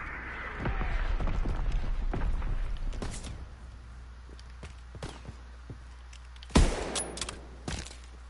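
Distant explosions and bursts of gunfire from enemy mortar fire in a PS4 war video game, with several sharp blasts spread across the clip and a loud impact near the end.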